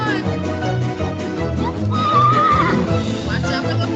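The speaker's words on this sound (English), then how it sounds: "It's a wild horse." A wild horse neighs loudly and close amid busy, cluttered sound, with a shrill whinny rising out of the mix and what may be hoof clatter underneath.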